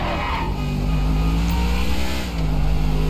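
Cars driving in Grand Theft Auto V, a steady loud engine drone with a revving, accelerating tone that runs the whole time and dips briefly near the end, with no voices.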